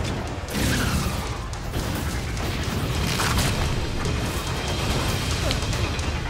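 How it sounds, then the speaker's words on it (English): A giant cannon fires in the video game Vanquish, a deep booming blast that swells into a long, dense rumble filling the whole stretch and holding loud and steady after a short quiet start. "That's a cannon."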